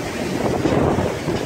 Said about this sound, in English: Redondo Beach Pier, big waves.